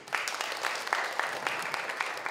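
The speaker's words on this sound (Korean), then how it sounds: "박수 한번 주십시오" Moderately faint applause from a roomful of guests at a CEO course welcome party, continuous clapping with a few sharper individual claps standing out.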